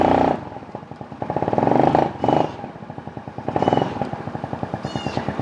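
A Venom X22GT 250cc automatic street bike with a CVT starts up and idles close by, its engine a steady pulsing putter that swells with a few throttle blips before settling back to a rhythmic idle.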